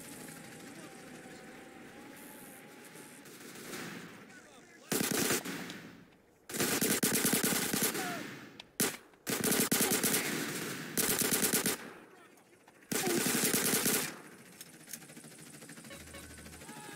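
Long, loud machine-gun bursts erupt in Grand Theft Auto San Andreas, several separated by quieter stretches where a voice talks over a low background hum, the firing close and harsh.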